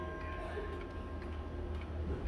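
A mechanical pendulum clock, one of several wall clocks, ticks steadily and evenly at close range over a low background hum, with no talking.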